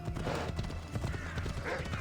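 Horse hooves clop in a quick, uneven rhythm with a brief neigh, from the video game Assassin's Creed Odyssey, close and moderately loud with game ambience underneath.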